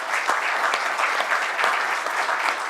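Sustained audience applause for an ambassador at a cultural diversity speech event, a dense even wash of many hands clapping at steady loudness throughout.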